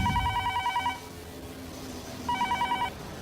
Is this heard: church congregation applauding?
no